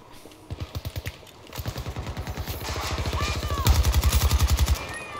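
Rapid automatic gunfire from Battlefield 2042 Hazard Zone, in bursts that build into sustained loud rattling fire near the end, with faint game ambience.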